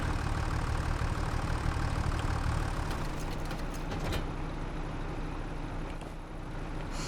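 A tractor engine idles in the farming video game Farming Simulator 25, a steady low rumbling drone with a few faint clicks partway through and no speech.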